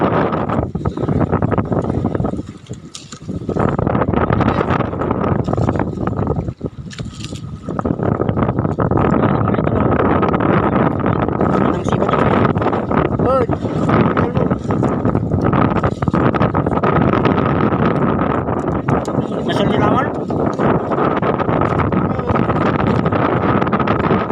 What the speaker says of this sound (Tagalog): malakas ang hangin mga idol